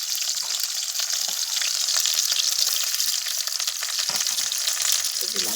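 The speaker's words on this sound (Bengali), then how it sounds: "কড়াইতে লঙ্কা আর পেঁয়াজ দিয়ে দিলাম।" Chillies and onions frying in oil in a kadai, giving a strong continuous sizzle with occasional soft stirring knocks.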